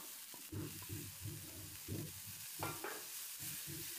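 Bean sprouts stir-fried in a pan: scraping stirs and soft sizzling in uneven bursts, close by, with no talking.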